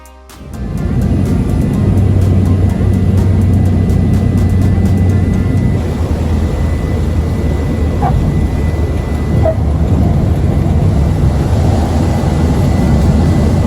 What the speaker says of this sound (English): only small planes arrive here as it's a very small airport